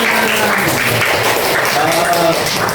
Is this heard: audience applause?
yes